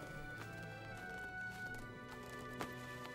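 Horse hooves clip-clop in a steady rhythm against a busy background in a drama, with a sharp knock near the end.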